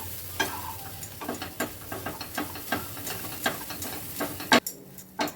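A spoon scrapes and stirs flattened rice and green peas in a frying pan over a medium-high gas flame, with steady, repeated strokes over a soft sizzle, with one sharper clank near the end.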